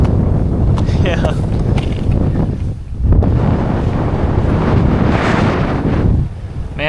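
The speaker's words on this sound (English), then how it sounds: "Man, it's just so windy out here." Strong wind roars and buffets the microphone outdoors during a winter storm in Alaska, loud and continuous, with someone talking underneath.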